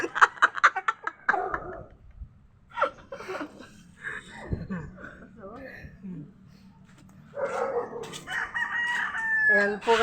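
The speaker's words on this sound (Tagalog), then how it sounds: "Ayan po, ang daming manok." Several fighting roosters crow and hens cluck nearby, interspersed with a person talking loudly over the birds.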